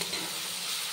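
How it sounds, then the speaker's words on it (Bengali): Spice masala for a fish curry being stirred and sautéed in a pan produces a brief, close, continuous sizzle with scraping stir noise. "সুন্দর করে একটু মশলাটা কষিয়ে নেব"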